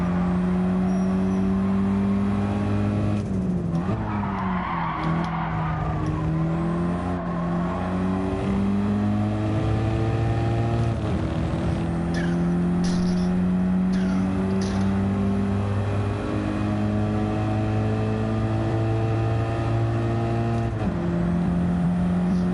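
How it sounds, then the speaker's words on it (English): A rally car engine in Gran Turismo 7 revs up and down through gear changes, with whistling turbo spools and flutters between shifts, loud and continuous throughout. "Those cute little turbo noises."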